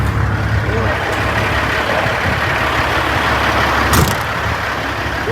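A heavy diesel truck engine rumbles steadily nearby on a highway, low and continuous with a brief louder whoosh, while someone talks over it.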